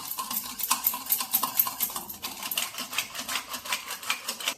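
Gram flour being whisked into buttermilk for a plain kadhi, a quick, dense run of light clicking and scraping strokes against the vessel, steady and close with no voices.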